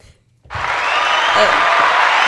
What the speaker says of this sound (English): It's supposed to be the clap. The clapping one.